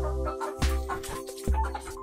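White Aseel chickens on a farm give a few short clucks over a steady background hum, close and moderately loud.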